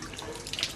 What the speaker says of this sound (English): Bit of a leak. Yes, seems to be the trouble. It's probably what's causing all this water, you see.